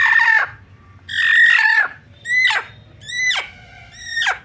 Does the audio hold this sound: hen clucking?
yes